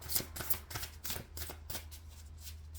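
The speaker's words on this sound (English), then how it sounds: "And I'm just shuffling off camera here, but I'll show you the cards in a second" Tarot cards are shuffled off camera, a soft rapid riffling and flicking in quick repeated bursts, quiet and close with no talk.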